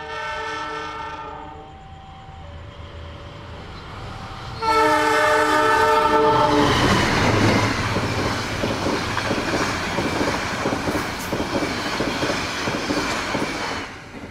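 An Indonesian Brantas economy passenger train sounds its horn in long blasts, then rolls past close and loud, its wheels clattering rhythmically over a rail switch for several seconds.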